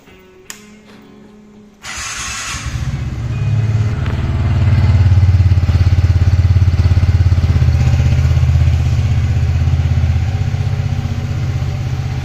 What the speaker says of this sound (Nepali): हजुरहरूलाई म यसको साउन्ड पनि सुनाइदिइहाल्छु